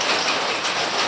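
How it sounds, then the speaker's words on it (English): Heavy rain pours steadily on a surface, a dense, constant patter with no other sounds. "hope you can hear me over the rain"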